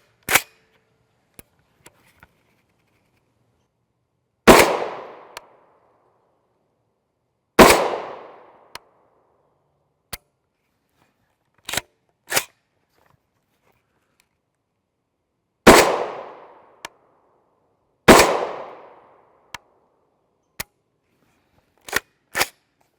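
Subsonic 8.6 BLK (8.6x43mm) rifle rounds, 285-grain solid copper, are fired unsuppressed outdoors: about five sharp, loud reports spaced several seconds apart, each with a brief decaying echo, separated by faint mechanical clicks.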